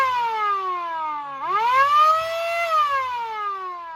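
A loud, droning modified farm tractor engine exhaust with a strong buzzing tone that climbs in pitch as it revs, holds there, then settles back. It plays steadily with no talking.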